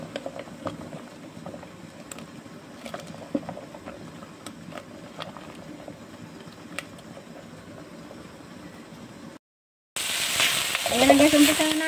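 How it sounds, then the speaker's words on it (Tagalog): Swanchai greens sautéed with garlic in a pan give a continuous moderate sizzle with light stirring clatter, cut off by a short silence before a louder, harsher burst of frying. "Ayan, ginasa ko lang yan sa bawang guys"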